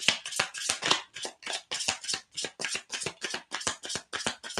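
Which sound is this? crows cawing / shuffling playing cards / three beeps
shuffling playing cards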